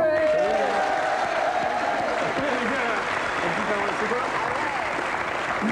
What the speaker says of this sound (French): C'est Mademoiselle Agnès, on peut l'applaudir.